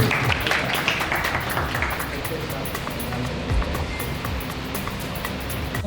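Applause from the audience at a Pakistan Peoples Party membership drive event in Lahore, a dense, steady wash of clapping that carries through the whole stretch, with a voice over a loudspeaker heard above it.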